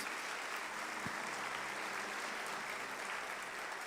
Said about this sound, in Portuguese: Aplausos para Jesus.